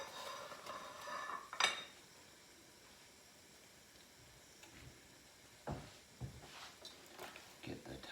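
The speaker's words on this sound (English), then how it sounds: "get out some nice dishware" Dishware being taken out in a home kitchen while eggs and sausage cook, with one sharp clatter of plates near the start and a few lighter clinks and knocks later, over a soft background hiss.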